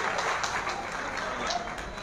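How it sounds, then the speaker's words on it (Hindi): Crowd applause at a political rally, steady and moderately distant, with voices mixed into the clapping for two seconds. "जोरदार तालियां बजाएं"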